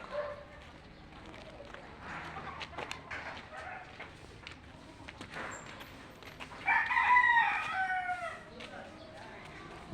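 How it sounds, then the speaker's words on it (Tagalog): A fighting rooster crows once at a middle distance in a Philippine marketplace, a rising, drawn-out call standing out from a low murmur of background chatter and ambient noise. "May panabong na manok."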